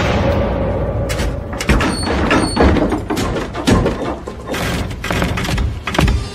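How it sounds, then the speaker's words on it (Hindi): In a horror story sound effect, doors slam shut one after another, a loud sequence of heavy thuds and bangs under a continuous low rumble. "दरवाजे एक के बाद एक जोरदार आवाजों के साथ बंद होते चले गए"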